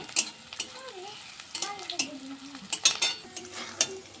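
Onion, garlic and chili fry in a pan over a gas flame, a close sizzle broken by clattering utensil scrapes and knocks, with brief sliding vocal-like tones in the background.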